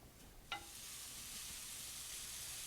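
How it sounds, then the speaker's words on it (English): Thinly sliced onions cooking in a pan over medium heat, giving a steady, quiet sizzle and hiss that builds slightly and holds evenly, with one small clink near the start. "I'm going to start cooking those until they start to become a bit translucent"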